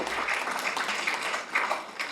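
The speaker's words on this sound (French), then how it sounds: "Vous devriez les applaudir d'ailleurs." A church congregation claps in steady, sustained applause, a dense and even patter of many hands throughout with no voices on top.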